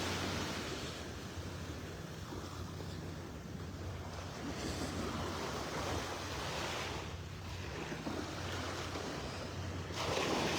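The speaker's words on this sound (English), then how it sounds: "you can see the waves lapping up here and just pulling these shells back out" Surf washes steadily onto the shore of Vanderbilt Beach in North Naples, Florida, with waves lapping in and pulling shells back out. Wind buffets the microphone under a continuous close wash, with swells rising and falling every few seconds.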